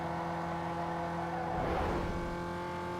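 A race car's engine roars steadily in Need for Speed Underground 2, swelling briefly as nitrous boost kicks in, loud and continuous with no voices.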